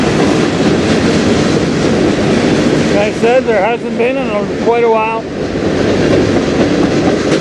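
A CN freight train rolls past close by in Sarnia, Ontario, a loud continuous rumble with clattering wheels and rattling cars, as someone speaks briefly over it midway.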